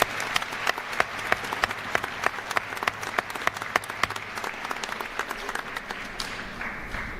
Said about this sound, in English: Let's give our speakers another round of applause